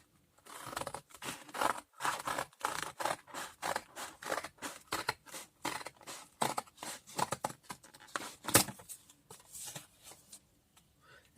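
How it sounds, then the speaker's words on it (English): Scissors snip through paper to make journal tags, with many quick crisp cuts in an irregular rhythm. The snips are close and fairly quiet, with short pauses between bursts and no talking. "And then I'm going to cut it here."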